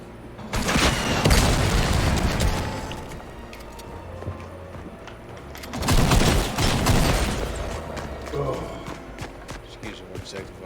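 Gunfire from the Fortnite battle royale video game, with two bursts of heavy booming shots around the start and middle, loud and close, separated by quieter stretches and mixed with game sounds.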